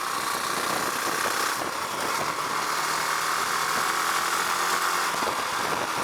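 A Husqvarna Vitpilen 701 motorcycle rides at about 50, with a steady engine drone and hiss of wind and road noise that stays constant and fairly loud throughout.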